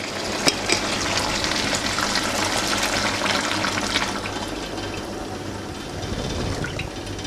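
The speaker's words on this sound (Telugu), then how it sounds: "ఇప్పుడు వాటర్ వేస్తున్నాను." Water, about a litre, is poured into a cooking pot of chicken curry, a steady rushing splash lasting several seconds with no talk.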